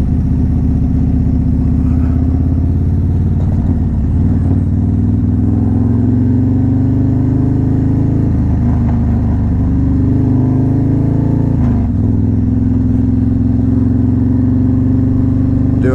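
A motorcycle engine idles steadily and gets a few gentle revs, sitting close and loud with a deep rumble and no talking, on a road during a relaxed ride near Smithfield.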